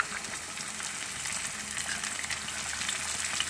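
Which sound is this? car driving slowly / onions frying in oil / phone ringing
onions frying in oil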